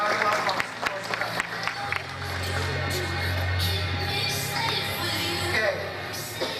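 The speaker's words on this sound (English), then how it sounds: "Just give a round of applause for Sultan." A conference audience applauds, a steady wash of clapping that swells and holds for several seconds, with a voice speaking over the start.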